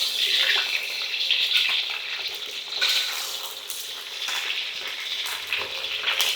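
Fish frying in foaming coconut oil, a steady close crackling sizzle with bubbling that holds throughout at moderate loudness, with no talk over it.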